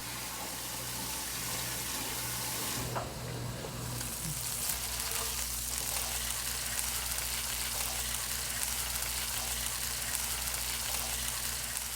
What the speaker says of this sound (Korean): 아주머니가 손질한 잉어를 흐르는 물에 씻고 팬에 올려 굽는다.